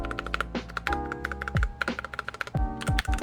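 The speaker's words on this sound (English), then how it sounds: "Like if you just hear that, this is not lube, this is lubed. This just sounds so good right here." Rapid typing on a cheap keyboard fitted with lubed AKKO Rose Red switches: close, dense clacks and thocky bottom-outs in quick bursts, with the spacebar landing deeper and heavier.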